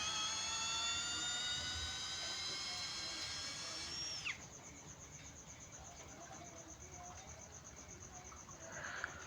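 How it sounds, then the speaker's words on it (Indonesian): A high, straining 18V brushless cordless drill whine boring an auger bit into hard bengkirai wood that cuts off abruptly partway, followed by a lower steady hum and faint rattling. "memang untuk menggunakan mata bor auger bit ini sangat berat sekali ya, sangat memaksa sekali"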